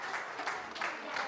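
Faint, continuous audience applause at the end of a children's school play, an even patter of many hands heard from a distance.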